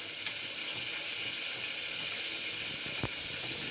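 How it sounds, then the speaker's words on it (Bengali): Water poured from a tap or jug onto ground spice mix to soak it while cooking tel potol, a steady close splashing hiss with small clinks. "এবার এটাকে আমি জল দিয়ে একটু ভিজিয়ে রাখবো"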